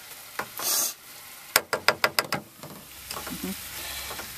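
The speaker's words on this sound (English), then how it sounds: "Let it simmer for a little bit and let that reduce down to some juice" Pulled pork and sauerkraut cook in a pot, with a run of quick utensil clacks and scraping, then a soft bubbling simmer underneath.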